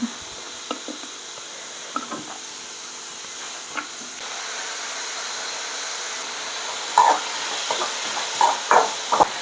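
Ground ginger, garlic and green chili paste sautés in a pan with a steady soft hiss, broken by scattered small pops and a few louder crackles and stirring taps toward the end.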